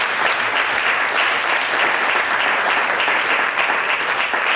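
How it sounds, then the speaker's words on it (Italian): Audience applause at an Italian school theatre meeting, dense sustained clapping from a full room at an even, loud level throughout. "bisogna fare un applauso a Natalia e a Enrica, perché"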